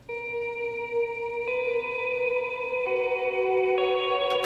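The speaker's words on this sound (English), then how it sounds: "we also start to hear this shimmery guitar lead" A shimmery electric guitar lead rings out with sustained, effect-laden notes stepping upward in pitch, clear and alone with a soft wash of echo behind it.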